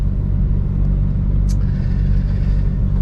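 A truck rolls along roads through Greek villages, its engine a steady low rumble with road noise throughout, close and continuous, with one brief higher squeak partway through.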